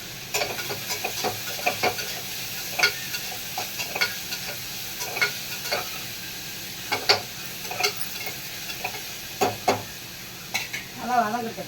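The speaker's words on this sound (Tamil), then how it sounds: "நல்லா வதங்கட்டும்." Vegetables sauté in a pan with salt for a Chettinad-style cabbage dish, a soft continuous sizzle under frequent scraping stirs of a spoon, with a brief voice near the end.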